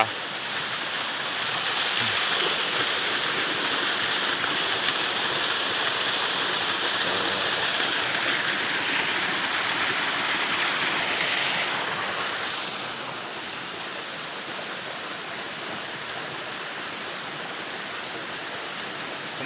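Water tumbling over rocks at a forest waterfall, a steady broadband rush that holds loud and constant, easing slightly softer partway through, with no voices.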